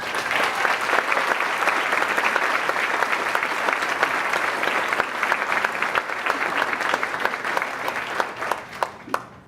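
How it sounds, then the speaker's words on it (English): A crowd applauds steadily for Aranza and Joe at a Miami Lighthouse event, dense sustained clapping that thins into a few scattered claps near the end. "Aranza and Joe deserve one more huge round of applause"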